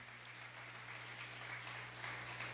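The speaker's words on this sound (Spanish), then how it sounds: "Fuerte ese aplauso al que lo merece" Congregation applause during a Sunday church service, a steady, fairly quiet wash of clapping over a low constant hum, with no talk.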